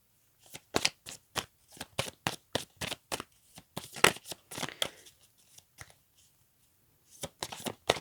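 Tarot cards being shuffled by hand, a run of quick crisp riffling bursts up close in irregular clusters, a pause, then a few more flicks, with no talk.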